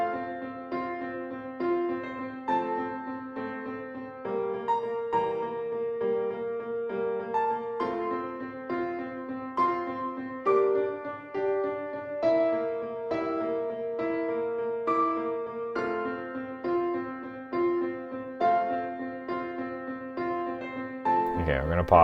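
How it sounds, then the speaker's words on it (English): Slow, gentle piano nocturne of the player's own composition, a steady melody over flowing chords that runs without a break, with a voice talking quietly over parts of it. "here is this lovely nocturne by me."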